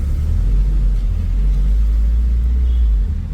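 A car, likely a Honda K20 Type R-engined build, pulls away in first gear with a steady low engine rumble and drone held throughout, loud and close with no talking.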